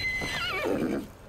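A horse whinnies in the video game Ghost of Tsushima, a single close, clear neigh rising then falling in wavering pitch over about a second, with no talk.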